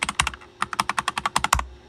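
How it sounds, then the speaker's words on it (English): Quick bursts of keystrokes on a Keychron K10 wireless keyboard, close and crisp, with a short pause before a fast, even run of clicks ending in a heavier key press. "if you're curious what kind of keyboard I'm using right now, it is a wireless keyboard called the Keychron K10"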